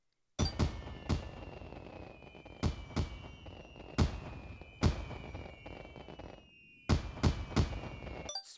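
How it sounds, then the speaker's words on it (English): Fireworks bursts from the Nintendo Switch 2 welcome tour game, a series of sharp, loud booms with crackling, fizzing tails in uneven clusters, some back to back, with a short gap of near silence and no talk. "See a firework with the Nintendo 2 Switch logo on it."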